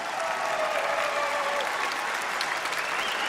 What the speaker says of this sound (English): A big round of applause for all of our contestants.